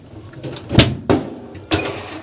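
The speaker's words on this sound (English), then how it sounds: "You do have to press it pretty hard to get it to snap in place" A plastic clothes dryer door handle on a Kenmore, Whirlpool or Maytag dryer is pressed firmly into place, giving three sharp close clicks and snaps spaced about half a second apart.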